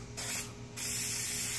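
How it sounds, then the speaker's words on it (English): A spray can of sticky adhesive hisses onto seat foam for a 2002-05 Dodge Ram 1500 seat, two close bursts with a short break between them, the second burst longer and steady. "I'm going to spray this down. This stuff is really sticky,"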